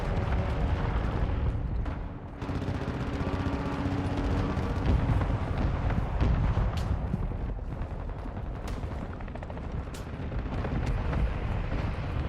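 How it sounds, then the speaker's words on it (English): Mortar strike explosions rumble in the Call of Duty: Modern Warfare II video game, heavy booming blasts and gunfire layered over a dense, continuous battle din with sharp cracks scattered throughout. "Hostile mortar strike incoming."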